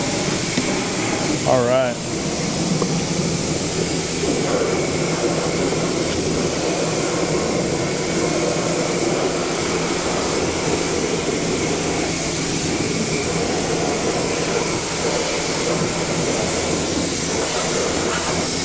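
Pressure washer blasting out the wheel wells of an Audi RS6 Avant, a steady loud broadband hiss and roar of spray running continuously, with a voice briefly speaking over it.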